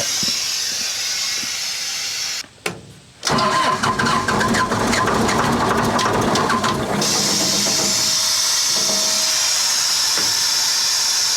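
A John Deere 4045T diesel engine misfiring and kicking back during starting, a brief cranking sputter that breaks off, then a loud rough churning run for a few seconds before settling into a steady hissing hum.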